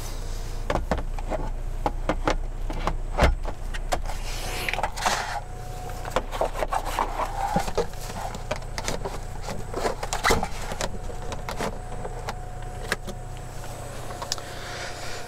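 A parcel shelf being pulled out and deployed in the boot of a 2019 Land Rover Discovery Sport: close plastic rattles, clicks and sliding scrapes in scattered bursts over a steady low background rumble.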